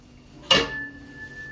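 A spoon strikes a cooking pot once while stirring rice in boiling water, a sharp metallic clink with a short ringing tail, over quiet background.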